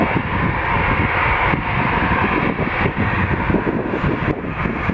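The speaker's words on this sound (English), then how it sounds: "a surprise Etihad Dreamliner" Etihad Boeing Dreamliner airliner at Toronto Pearson airport, a loud, steady broadband jet engine roar that holds throughout with gusty wind noise, no voices.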